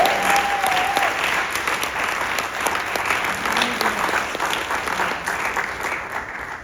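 Audience applause for youth poets at a poetry event at the Guggenheim in New York, a steady, full round of clapping from a crowd that fades slightly toward the end.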